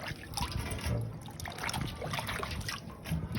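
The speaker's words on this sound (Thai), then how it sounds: "มาล้างน้ำ" Food is rinsed a little at a time under running water, with a steady trickle and splashing close by, fairly soft, and no clear talk.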